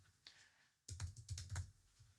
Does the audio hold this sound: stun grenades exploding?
no